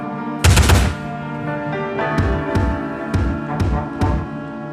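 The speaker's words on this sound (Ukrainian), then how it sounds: "Большевикам відповідали кілька наших гармат" A heavy, booming blast opens the clip, followed by a run of sharp, evenly spaced reports, like artillery firing repeatedly at a steady rhythm.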